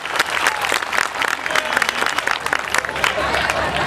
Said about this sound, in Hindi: वो तालियां कमजोर है, एक बार जोरदार तालियां